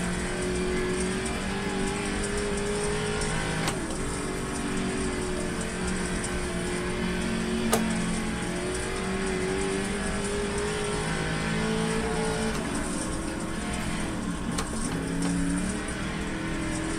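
A race car engine in the iRacing sim drones steadily for the whole stretch, its pitch rising and falling through shifts and corners, with a couple of sharp clicks and no talk.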